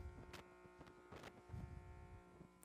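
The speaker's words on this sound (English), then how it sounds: "This is the noise of a transformer." A power transformer gives off a faint, steady electrical hum with a buzzing edge, broken by a few soft clicks and knocks in a quiet room.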